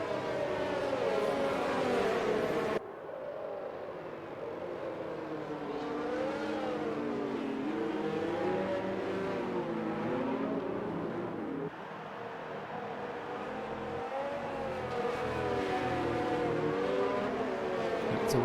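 Safety car driving around a Russian Grand Prix circuit in a racing video game, a steady engine drone with rising and falling pitch sweeps as it accelerates and shifts, loud and continuous, with no talk.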